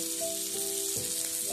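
Tomatoes fry in mustard oil on a tawa for a spicy breakfast dish, making a steady, close, even sizzle with a faint tonal hum underneath and no voices.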